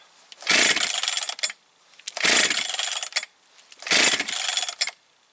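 A Jonsered 630 Super II chainsaw with a worn-out clutch is pulled three times, each pull giving a loud second-long burst of engine chugging that fails to catch and drops back to quiet between attempts.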